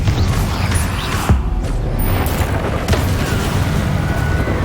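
A Confringo fire spell explosion in the Hogwarts Legacy video game: a loud, dense, booming blast with crackling debris, sustained at high level for a few seconds, with no voices.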